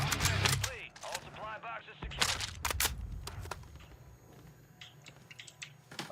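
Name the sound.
Ram 7 rifle gunfire in a video game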